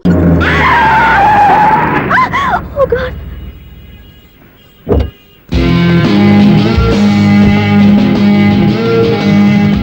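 A car brakes hard on a road, tires skidding loudly at the start, followed by a lull and then busy scene sound with voices and background music.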